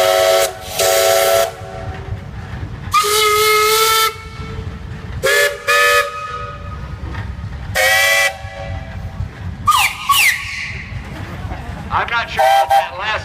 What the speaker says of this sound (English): We got 5 whistles coming up.